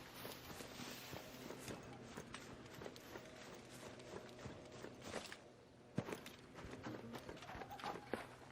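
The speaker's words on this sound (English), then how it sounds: "Thought I heard some footsteps." Footsteps in a video game tread at a steady pace for several seconds, faint and a little distant, with clicky, hoof-like impacts over a low ambient background and one sharper knock near the end.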